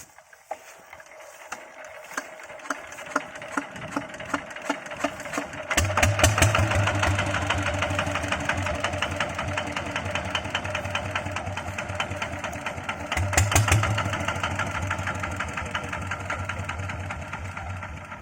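A vehicle engine cranks and catches partway through, then settles into a steady, close mechanical idle with a rapid ticking rhythm and a second revving surge later, with no talk.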